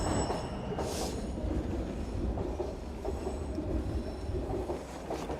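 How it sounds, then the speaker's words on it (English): A train rumbles past nearby in Suitland, Maryland, with a continuous heavy roar of wheels on rails and occasional metallic squeals. "Y'all hear the train?"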